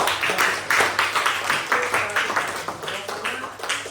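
Students in an Islamic religious education class clap their hands together in a classroom, a dense, irregular burst of claps that stays steady for several seconds with faint voices underneath.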